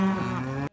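A single cow moos loud and close in a long, steady, harmonic call that cuts off abruptly, with no other sounds around it.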